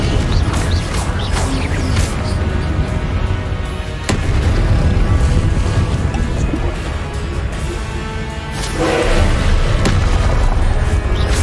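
A Confringo blasting spell in a Hogwarts video game, heard as loud, rumbling explosive booms and crackling blasts that continue almost without pause throughout.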